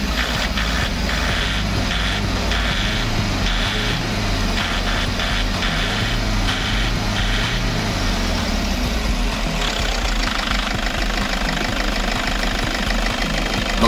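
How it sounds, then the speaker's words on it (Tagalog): A Toyota car engine idles steadily nearby, a continuous low rumble with a faint rhythmic ticking, running without a break. "Pakinggan natin ang tunog ng makina mga paps."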